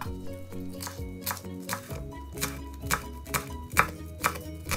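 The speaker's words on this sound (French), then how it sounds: "je le détaille en tronçons. J'enlève la base et on va juste le hacher grossièrement" A knife chops spring onion greens into coarse pieces on a cutting board, giving a run of close, crisp, evenly spaced thuds and cuts under a continuous background of music.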